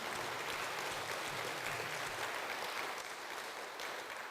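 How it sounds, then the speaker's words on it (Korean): Church congregation clapping during a Sunday morning worship service, a continuous, fairly faint wash of many hands heard from a distance, steady from start to finish with no voices over it. "하나님께 감사의 박수 한번 올려드리겠습니다"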